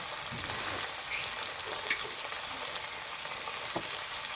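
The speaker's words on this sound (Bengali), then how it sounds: "ধুয়ে রাখা চিংড়ি মাছ এবার দিয়ে দিব তাওয়ার উপরে হলুদ গুঁড়া" Shrimp dusted with turmeric powder frying on a flat pan, a steady close sizzle with light crackles and faint stirring scrapes throughout.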